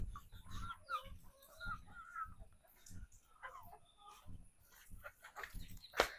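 Free-ranging backyard chickens cluck intermittently near a kitchen area, soft and scattered amid rustling and faint background voices, with a sharp louder call near the end.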